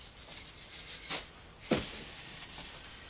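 Aged compost, perlite and amendment mix being mixed by hand, quiet gritty rubbing and rustling with a couple of sharper scrapes.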